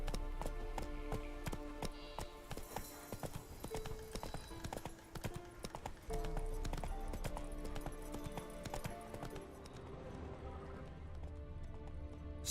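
Hooves of the horse Roach in a video game, a steady, rhythmic clip-clop gait at close range that continues throughout with faint background game sound.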